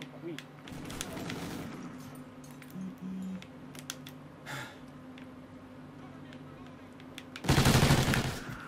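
Gunfire in the Call of Duty Ghosts video game comes in a few short bursts and a loud closing volley, over steady game background noise.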